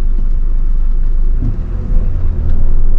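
A car idling and revving on a hill start as the clutch is released, a steady close engine rumble that shifts slightly in pitch, no voices.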